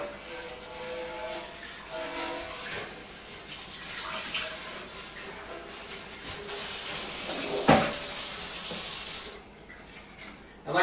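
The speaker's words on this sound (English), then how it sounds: "I'm just going to rinse that out with the water in the sink and dump it" Sink water runs steadily over spent brewing grain being rinsed out during homebrewing of an ESB, a continuous close splashing wash with a brief clatter near the end before the flow drops away.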